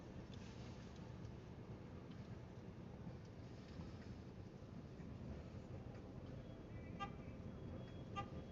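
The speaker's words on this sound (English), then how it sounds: "How many times are you gonna honk your horn?" A car horn gives a couple of short, faint honks near the end, heard from inside a vehicle on a late-night Walmart delivery ride-along, over a steady rumble of road and engine noise.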